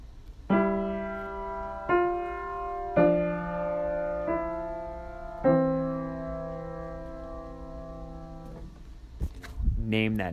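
Melodic passage on a sustained keyboard-like instrument illustrating an escape tone embellishment, several held chords changing in steps over about eight seconds, moderately loud and alone, followed by a brief clatter at the end.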